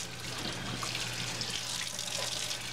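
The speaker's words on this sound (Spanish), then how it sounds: "lavar bien el cuchillo y todo" A kitchen tap runs steadily while a knife is washed under it, a continuous hiss and splash of water with faint clinks, fairly quiet and without talk.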